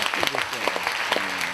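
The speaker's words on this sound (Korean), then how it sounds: "박수로 우리 황정민 아나운서의 강연을 청해 보겠습니다" An audience at a talk concert breaks into applause to welcome an announcer, with dense, continuous clapping close by and a voice briefly audible over it.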